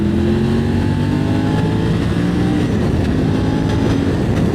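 A Triumph Tiger 900 GT motorcycle engine revs hard and climbs in pitch as the bike accelerates past two cars, a loud continuous rising drone with no talking.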